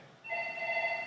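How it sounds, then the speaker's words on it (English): A telephone rings briefly with a single steady electronic tone, faint and alone in a quiet room. "looks like I got a phone call."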